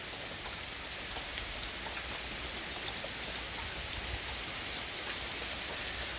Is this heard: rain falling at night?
yes